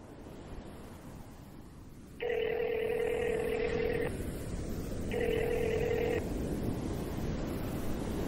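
A telephone heard in a Telugu short film, two sustained electronic tones over a steady background hiss, each lasting a couple of seconds with a short gap between them.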